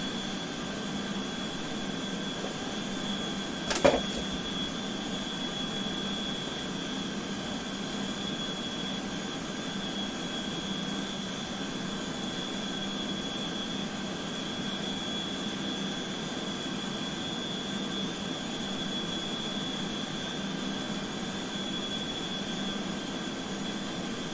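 Simulated E-3 Sentry jet engines give an old-school, steady droning hum with constant tones, flying from Geilenkirchen to St Athan. The drone continues unbroken and fairly quiet, with one sharp click early on.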